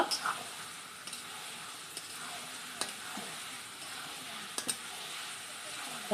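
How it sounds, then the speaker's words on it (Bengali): Meat sautés in a pan with a low, steady sizzle and occasional scraping stirs from a utensil, heard quietly at moderate distance with no speech over it. "এবার আমি মাংসটাকে ভালো করে কষিয়ে নিব"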